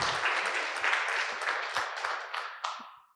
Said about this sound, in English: A round of applause for all of these women who came together.